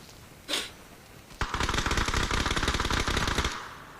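Video game gunfire: one sharp shot, then a loud, sustained rapid automatic burst lasting about two seconds, close and dominant with no talk over it.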